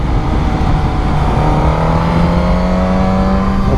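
Suzuki GSX-S 1000 motorcycle accelerating at high revs, its engine note rising in a steady, loud whine over heavy wind roar, heard from the rider's position.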